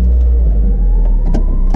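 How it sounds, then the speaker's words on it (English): A Mazda Miata with a smoking power steering pump runs close by, a loud deep steady engine rumble without pause. "Figure I turn the camera back on when I start the car, see if it's gonna be squeaking and stuff."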